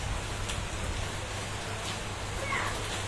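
Rain falls during a Kalbaishakhi storm in Dhaka, a steady, even hiss of drops on surfaces that stays fairly loud and unbroken for the whole stretch.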